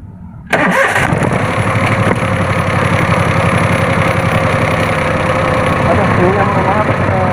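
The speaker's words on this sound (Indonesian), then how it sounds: "sekarang saya akan hidupkan dulu mesinnya" A car engine with a faulty air-conditioning compressor magnetic clutch coil cranks and fires abruptly, then settles into a loud, steady idle that drones on close by without pause.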